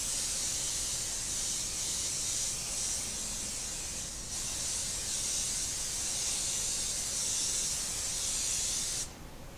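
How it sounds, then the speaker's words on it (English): Cooking spray hisses steadily onto a quarter-size pan for about nine seconds, a loud continuous aerosol spray that cuts off near the end, with no talking. "we're going to spray our pan very well with the spray"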